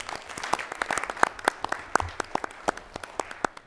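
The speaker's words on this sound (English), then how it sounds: "first round of applause" Scattered applause at a school board meeting honors a high school basketball team's regional championship. The claps are fairly faint and uneven, coming from a modest audience in a meeting room.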